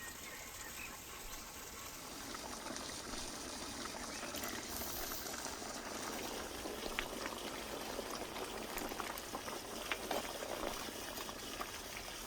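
A pot of beef rib stew bubbles and simmers steadily, a continuous dense hiss and gurgle with small pops scattered throughout. No voices.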